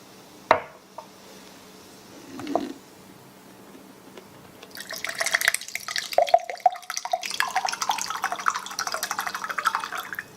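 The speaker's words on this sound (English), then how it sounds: "you can pour yourself a glass of water." Water is poured from a Premier pitcher into a glass, with a few clinks and handling knocks first and then a steady, bubbling stream of liquid filling the glass, close up, with no talk.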